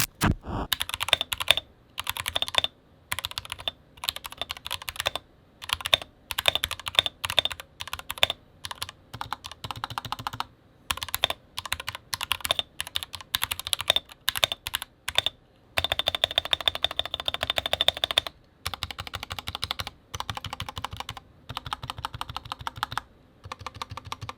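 Rapid clacking of a stock iLovBee i61 60% mechanical keyboard being typed on up close, keystrokes coming in steady bursts separated by brief pauses, with no talking.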